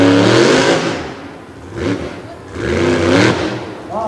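The Overkill Evolution monster truck at a Brookville, Pennsylvania arena show, its engine revving loud and close in two surging bursts that rise and fall, with no talk over it.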